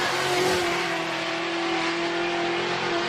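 A drift car at a Formula Drift qualifying session in New Jersey, 2017, accelerates and revs hard on track, a loud sustained engine roar with a steady high whine and no talk.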